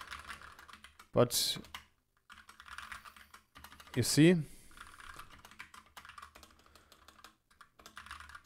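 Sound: typing on a computer keyboard

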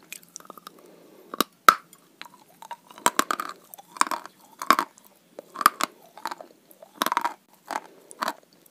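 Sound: biting and chewing dry White Mountain chalk

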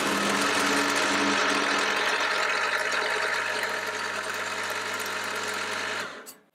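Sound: milling machine cutting a flat using a dividing head

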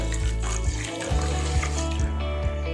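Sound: water being poured into a pan for sugar syrup

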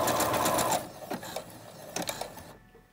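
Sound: sewing machine zigzag stitching elastic shut

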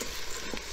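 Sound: stirring rice into butter, onions and garlic

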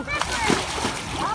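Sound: child jumping into water, splash

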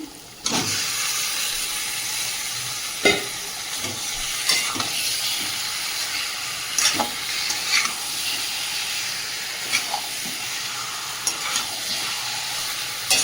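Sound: marinated meat frying with spices in oil

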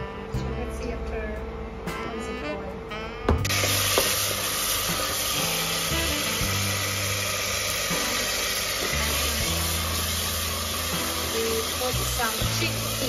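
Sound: stirring farfalle pasta in boiling water

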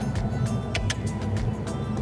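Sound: car driving on Madeira's scenic coastal road

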